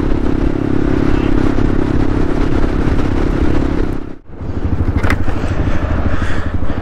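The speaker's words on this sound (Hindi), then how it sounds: "ये बाइक वाला वहां से आ रहा है" A motorcycle on the high mountain road to Umling La rumbles with a steady, loud engine drone, heavy wind buffeting the microphone, a brief dip near the middle, then a rising roar as it comes closer.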